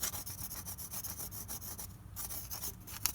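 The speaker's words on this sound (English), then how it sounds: "I'm just taking a little piece of wood like this and going along and cleaning the surface because I don't want to scratch it" A small piece of wood scrapes old sealant off the oil pan mating surface of a Toyota 5S-FE engine, making quiet, close, rhythmic rasping strokes repeated steadily with no talking.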